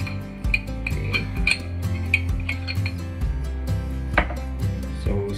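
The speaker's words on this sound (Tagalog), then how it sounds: "spread lang natin sa tatlong loaf of bread" A utensil spreads mayonnaise over slices of bread for a clubhouse sandwich, heard as a series of close scraping clicks and light clinks against a plate, with a low steady hum underneath and no voices.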